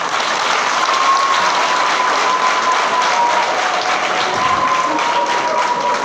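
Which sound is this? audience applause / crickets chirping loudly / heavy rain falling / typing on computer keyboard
audience applause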